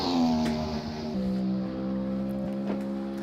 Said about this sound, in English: Beautiful sounding car. Let's take a listen to it. Listen to that whine.